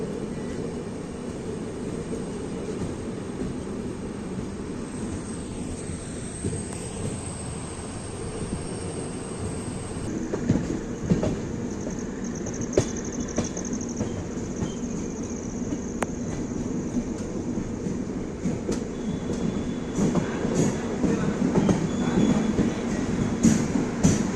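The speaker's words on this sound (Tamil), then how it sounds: "பக்கத்தில் பார்த்தீங்களா பேரலாக அந்த ஹூப்ளி லைன்லேருந்து ஒரு ட்ரெயின் வருது." A passenger train from Hospet to Bengaluru runs past on a parallel Hubli line, making a steady, loud rail rumble with clattering wheels and faint squeals, heard alone without talk.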